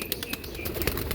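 Released domestic pigeons burst into flight, a dense, close flurry of wing flaps with quick rhythmic beats filling the moment.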